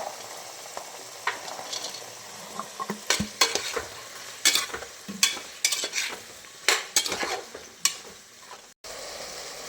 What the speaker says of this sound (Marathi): आता फुलगोबी टाकूया, आलू टाकूया, आलू आणि वटाणे टाकूया. हे छान मिक्स करून घेऊया.